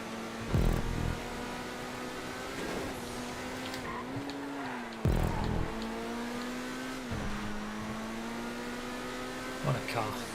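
Turismo Classic sports car engine in a GTA 5 race, droning steadily with rising and falling revs and brief bursts of louder roar, close and continuous throughout.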